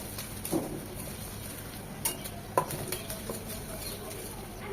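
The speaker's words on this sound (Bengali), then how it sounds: "ঝালের জন্য 1 চামচ উঁচু করে মরিচ গুঁড়ো তেলের মধ্যে ভেজে নেব।" Chili powder frying in hot oil for a Bengali drumstick chachchari, a faint steady sizzle with a few sharp stirring clinks and scrapes of a spoon against the pan.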